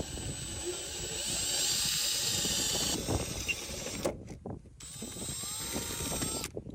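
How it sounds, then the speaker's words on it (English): A power drill bores through a roof top tent mount, a loud sustained whine broken by short pauses and restarts, with rattling and knocking underneath. "I hate drilling holes through stuff like this"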